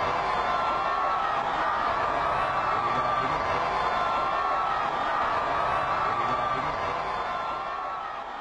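A large, dense crowd cheers and applauds in a steady, loud roar for Pope Francis's motorcade during his 2015 visit to the Philippines, with no pauses and a slight fade at the end.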